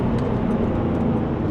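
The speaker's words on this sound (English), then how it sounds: "heel and toe downshifting." A Porsche 996 Turbo engine hums steadily from inside the car during a heel-and-toe downshift on a winding Black Forest road, a continuous moderate drone with no sharp blip audible.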